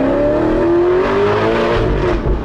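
An Alfa Romeo 8C Spider's engine growls loudly while driving in second gear at about 60 through a tunnel, its pitch rising smoothly as the car accelerates, with no talk over it.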